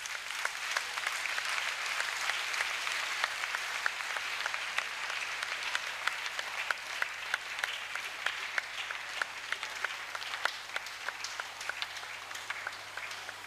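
Audience at a national church convention in Togo applauding, a sustained, even wash of many hands clapping at moderate distance, steady throughout without pauses.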